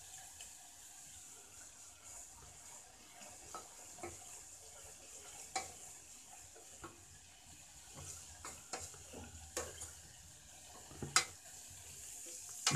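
Neem leaves are stirred in heating oil in a pan, giving a faint, steady sizzle broken by irregular scraping clinks of the spoon against the pan.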